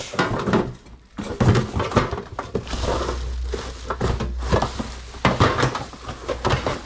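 Metal pots and pans clanking and knocking together as they are moved and handled, with irregular clatters and a low rumble underneath.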